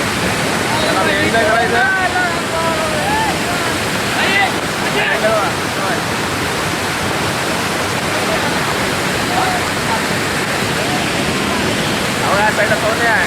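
Rushing waterfall in the Kokan countryside, a loud, continuous roar of falling water that fills the whole scene, with people talking over it.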